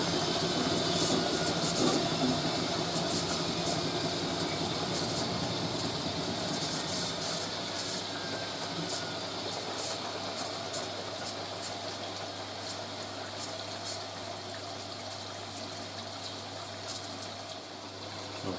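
A Hoover A3060 Electronic 1100 washing machine fills with water for its second rinse on a load of bedding, a steady rushing flow under a low motor hum that slowly eases off, with no voices.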